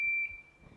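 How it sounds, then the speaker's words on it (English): Battery buzzer wired to two drawing pins, giving one steady high-pitched electronic tone that holds briefly, then cuts off when the pins part, leaving faint room noise. "when you push the top one onto the bottom one, it creates a sound"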